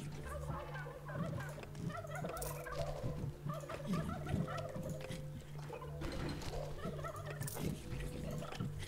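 Poultry clucking and gobbling in a small coop in the video game Dungeons 3, a steady busy chatter of bird calls over a low constant background hum.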